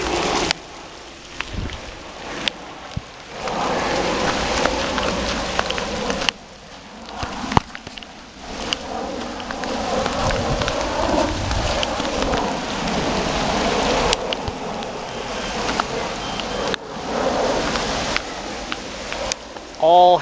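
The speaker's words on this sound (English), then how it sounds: "All hail, not snow," April hail in Spokane, Washington, falls on rooftops in a dense, continuous pattering hiss with sharper clicks, close and fairly loud throughout, while a person speaks briefly over it.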